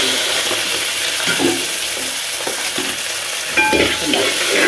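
Mustard seeds, small and large onions, garlic and ginger fry loudly in a pan, a dense, close, continuous sizzle and crackle interrupted by scraping stirring strokes, with no talking.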